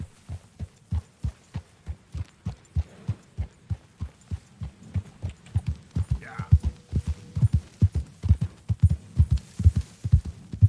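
Steady horse hooves clip-clop in a brisk, even gallop rhythm throughout, close and prominent, while riding in Red Dead Redemption 2, with a faint brief tonal whine midway.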